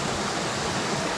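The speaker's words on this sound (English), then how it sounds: "as you can see above me here, it's this giant waterfall" A giant waterfall above a small trout creek roars in a dense, steady broadband rush of falling water, loud and close with no other sounds.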